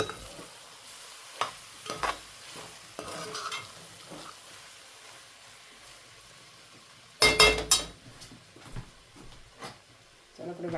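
A spoon stirs squid keema (makul) in a pan, soft scraping and clinks with a brief louder clatter of mixing, faint sizzling underneath and quiet background voices.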